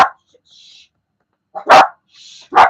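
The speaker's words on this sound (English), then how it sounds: "Sorry about the dogs barking." Dogs bark indoors in sharp, loud bursts, one at the start and two more near the end, with quiet gaps and faint higher yips between them.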